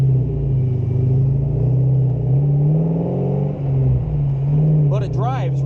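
A supercharged 1999 Saleen cruising, its engine a deep steady rumble with slight rises and dips in pitch from inside the car, loud and continuous, while a person talks over it.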